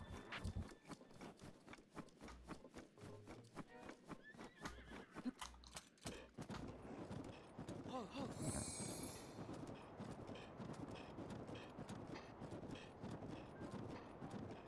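A horse's hooves clip-clop in a rapid, even rhythm in Zelda: Breath of the Wild, with brisk close strikes for about six seconds before blending into a denser, busier galloping clatter.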